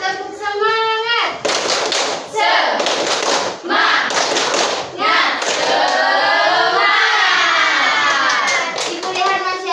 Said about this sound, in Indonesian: Kita mulai ya, tepuk semangat